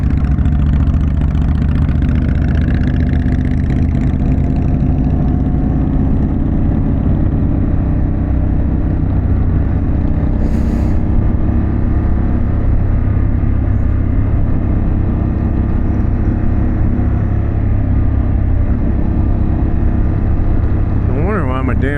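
Harley-Davidson Pan America motorcycle fitted with a Vance Hines exhaust, a loud steady engine drone while riding on the road, with wind rush and a rider's voice talking over it.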